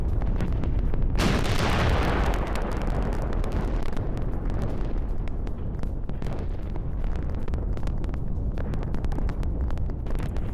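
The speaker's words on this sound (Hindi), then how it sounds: "इराक के इरबिल में ये ब्लास्ट, जहां गैस स्टेशन में भीषण विस्फोट हुआ" A roaring blast from a gas station explosion in Erbil, Iraq, rumbles loudly through the whole stretch, with dense crackling and rushing noise like a fire after an explosion, distorted and continuous.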